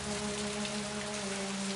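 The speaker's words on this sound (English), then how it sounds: "Oh, just a drizzle." Steady rain falls as a light drizzle, an even, continuous hiss over a low hum, with no voices.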